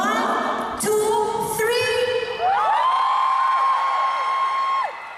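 A concert crowd shouts and cheers loudly in unison on cue, a sustained roar of many voices with whoops and children's shrieks, close and continuous for several seconds before trailing off.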